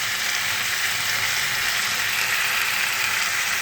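Spices with turmeric and Kashmiri chili powder fry in hot oil in a pan, a steady close sizzle that holds at an even level throughout, with no voices.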